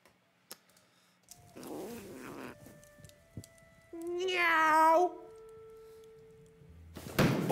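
A pet kitten meows in several drawn-out, rising cries at close range, with a soft thunk and faint rustling around them; a loud bump lands at the very end.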